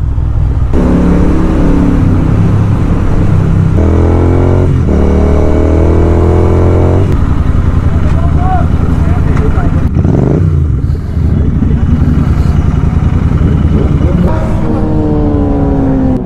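A Royal Enfield Continental GT 650 motorcycle engine revs and pulls hard on an off-road ride near Pani Kot Lake, its loud, steady drone rising and falling in pitch, with someone talking over it.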